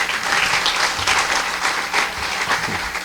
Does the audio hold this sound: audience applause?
yes